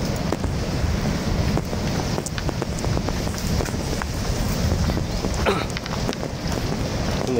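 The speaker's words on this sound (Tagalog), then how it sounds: "malakas na yung tunog ng dagat, naririnig ko na." Sea waves wash steadily somewhere near the back of a rural house. The surf comes through as a constant broadband roar, partly buried under gusty wind buffeting the microphone, with no clear voices.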